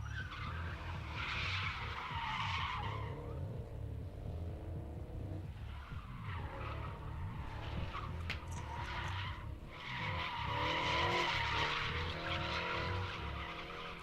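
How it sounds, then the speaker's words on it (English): A drift car at a drift pit slides with loud, sustained tire squeal and revving engine, the screech rising and falling across repeated slides at a moderate distance, with no talk over it. "Little rip of the e-brake and we're off."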